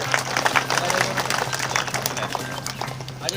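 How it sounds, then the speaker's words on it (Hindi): Brief burst of enthusiastic clapping from a crowd at an award ceremony, dense and fairly loud, with some voices mixed in. "जोरदार तालियां"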